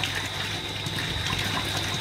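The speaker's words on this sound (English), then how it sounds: "the pump is pulling more water than what the main is putting in the bucket" A household water pump draws water from a bucket fed by the mains, giving a steady, close rushing gurgle with a constant motor hum underneath.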